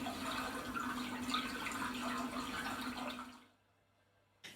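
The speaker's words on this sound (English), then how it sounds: "the sound of the water" Flowing, bubbling water from a floating-lilies sensory app trickles softly and steadily, then fades out to near silence before a short final splash.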